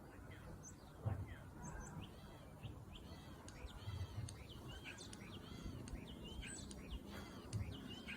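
Starling calling outdoors, a faint series of varied whistles, chirps and mimicking phrases repeating over a quiet background with soft low rustling and thumps.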